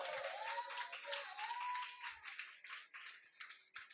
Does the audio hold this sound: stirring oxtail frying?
no